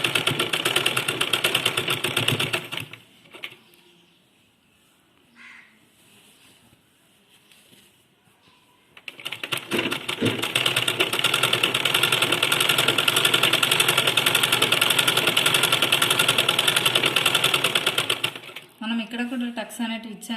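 A sewing machine runs a main stitching seam on a keyhole-neck top, whirring steadily in two long bursts with a quiet pause between, loud and close, with a voice talking near the end.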